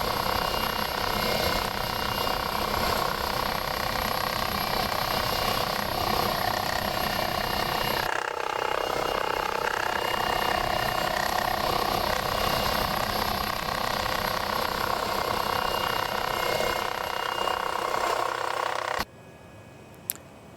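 Simulated MD902E helicopter engine in the X-Plane 12 flight simulator, a steady loud rotor and turbine drone with a shift in tone midway, running alone until it cuts abruptly near the end.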